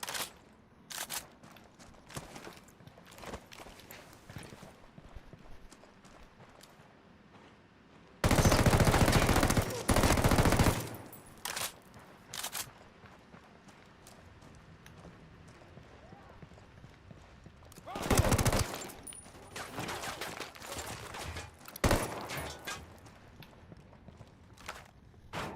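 Gunfire in the video game Ghost Recon Wildlands, loud bursts of shots around the nine- and eighteen-second marks, with scattered single cracks and footsteps between them and a voice talking throughout.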